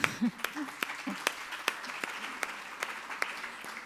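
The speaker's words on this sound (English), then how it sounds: "Please, an applause for the team." Scattered applause at a Barcelona conference closing session for the organizing team, a few distinct claps at a loose rhythm, fairly faint, with a voice speaking near the start.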